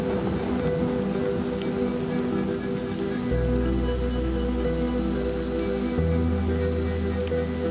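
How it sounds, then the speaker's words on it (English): Steady, dense rainfall pattering on surfaces in the African bush of the Kalahari Desert at night, continuous and fairly loud, with a low droning hum underneath and no voices. "The rain is a welcome relief, but Mike is struggling to collect it."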